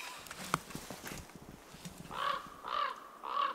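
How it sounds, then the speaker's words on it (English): A crow calls in warm woods, three loud, evenly spaced caws near the end, after quieter rustling and movement. "Bird."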